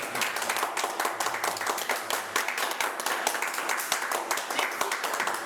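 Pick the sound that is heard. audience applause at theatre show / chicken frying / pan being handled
audience applause at theatre show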